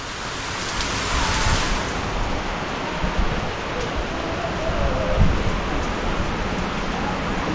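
Steady rain falling outdoors, a dense broadband hiss with low rumbling underneath that holds evenly throughout, fairly loud and continuous, with no voices.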